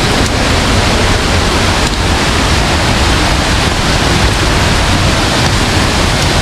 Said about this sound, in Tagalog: Talsik ng falls.